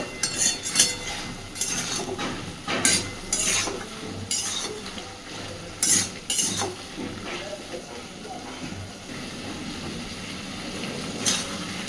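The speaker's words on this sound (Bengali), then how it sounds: "আদা বাটাটা দিয়ে মিনিট খানেক একটু নাড়াচাড়া করে নেব" Ginger paste is stirred in a metal pan, with repeated close scrapes and clinks of a utensil over a faint steady sizzle, with no talk.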